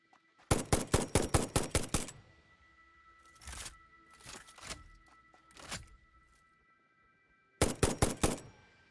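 Rifle gunfire in the video game Satisfactory: a rapid burst of about eight sharp shots, then several spaced single shots, then another quick burst, loud and crisp over near silence.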